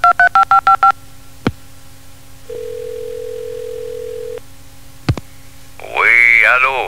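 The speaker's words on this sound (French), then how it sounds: "Je donne un coup de fil." A burst of rapid DTMF beeps as a phone number is dialed, followed by clicks, a steady electronic tone and another click, then a voice speaks.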